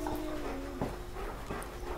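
German Shepherd dog in a horror video game, whimpering and panting in short soft cries over a steady background hum, moderately close with no talk.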